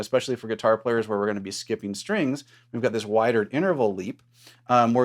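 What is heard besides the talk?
None of the usual background noises is heard.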